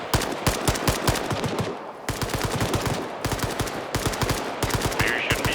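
Machine gun firing tracers in a military video game, hammering out repeated loud bursts in a steady rhythm with brief pauses, up close, with faint talk in the background.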